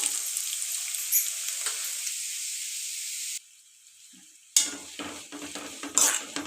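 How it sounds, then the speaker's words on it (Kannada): Onions hitting hot oil in a pan for a spicy homemade chicken gravy give a loud, steady sizzle. It dips briefly, then returns with scraping and stirring clatter from a utensil. "ಈರುಳ್ಳಿ ಹಾಕಿದ ನಂತರ ಸ್ವಲ್ಪ ಫ್ರೈ ಮಾಡ್ಕೊಳ್ಳೋಣ"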